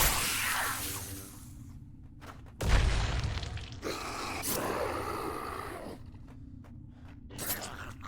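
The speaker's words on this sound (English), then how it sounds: "Always forgetting about the explosions." Several booming blasts in the video game Night of the Dead, one loud thud near the start of the middle section and later bursts, mixed with clattery game noise and rumbling.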